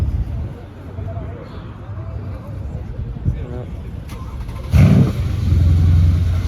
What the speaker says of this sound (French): Démarrage de la C63S.